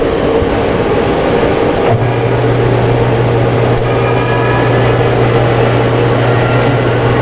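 A Robinair air conditioning service machine running a vacuum leak test on a 2019 Ford EcoSport, a loud steady mechanical hum and drone. A low tone joins partway through and holds to the end, with no speech.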